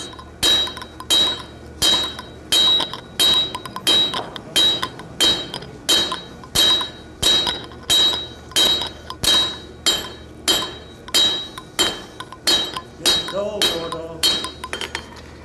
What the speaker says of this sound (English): I can begin to just draw on all dimensions with the face of the hammer